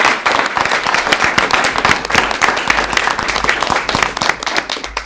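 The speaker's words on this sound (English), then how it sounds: "a round of applause" Applause fills a school board meeting as the audience gives a sustained round of dense, steady clapping from many hands, close and loud throughout with no talking over it.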